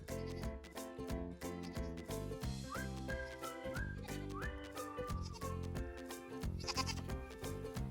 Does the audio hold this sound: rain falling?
no